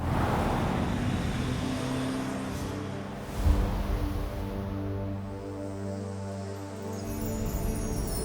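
An electric car travelling on a road, a soft, continuous rolling hum with tyre and road noise, rising slightly toward the end with a brief bump midway, no talking.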